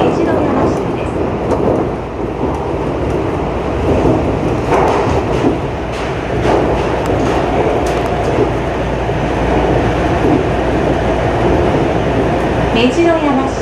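A Shonan Monorail train on the Enoshima line runs between stations with a continuous low rumble and rattling, while an onboard announcement voice speaks over it.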